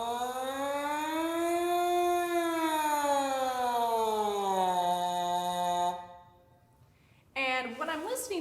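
French horn playing a warm-up siren, one long sustained tone gliding smoothly up and then down through the mid range, a pause of near silence, then a short new note beginning a lower glide.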